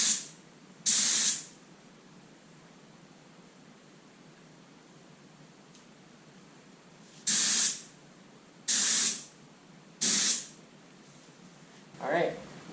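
A paint spray gun sprays base coat on a Dodge Dakota in short hissing bursts, one early and then four in quick succession, close and loud against a quiet background hum.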